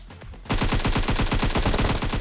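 Rapid automatic gunfire in the video game PUBG Mobile, a loud, dense burst of evenly spaced shots that starts abruptly after a brief quieter moment and keeps firing without pause.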